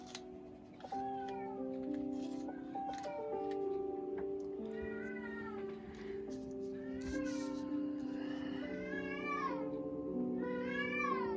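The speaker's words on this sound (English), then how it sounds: "And that is my cat, if you're hearing it." A cat meows repeatedly, several drawn-out calls in a row, over a backdrop of sustained musical tones.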